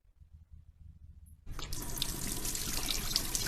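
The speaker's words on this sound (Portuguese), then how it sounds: "E eu vou provar isso abrindo essa torneira." A faucet is opened after a quiet moment and water then gushes steadily into a sink, a loud, continuous hiss and splash that holds to the end, with no voices.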